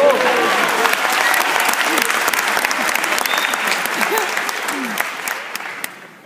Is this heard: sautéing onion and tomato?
no